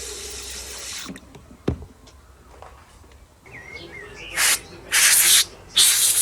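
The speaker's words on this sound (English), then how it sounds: "I'm just going to put the covers in this bucket and give them a bit of a clean" Plastic covers from a Bosch PBH 2100 RE hammer drill being washed in a bucket of water, with sloshing and splashing followed by louder bursts of rushing, spraying water up close, and no talking.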